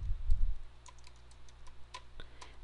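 Quick keystrokes on a computer keyboard while a file name is typed, a sparse run of light clicks close by in a quiet room after a brief low thump at the start.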